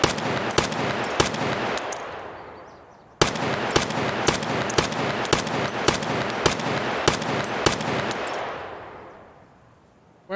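Bullets striking during a shootout in the tactical shooter Escape from Tarkov, a loud close burst of automatic fire with sharp spaced cracks that tails off into a fading echo, then a second similar burst.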